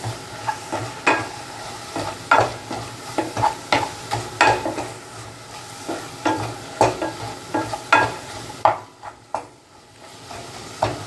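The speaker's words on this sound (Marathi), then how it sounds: "हे सुद्धा छान परतून घ्यायचं आहे." Chicken keema with potato and masala is sautéed in a pan, with a spatula scraping and knocking in a steady rhythm over a low sizzle, the strokes close and distinct for about eleven seconds.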